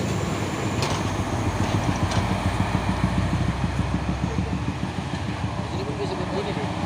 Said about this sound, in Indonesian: Dan ini ada lagi satu unit truk box.